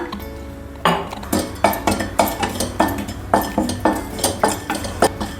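Pieces of turmeric root being stirred and roasted in a pan on a low flame, with a regular series of metallic scrapes and clinks from a spatula against the pan, close and clear with no talking.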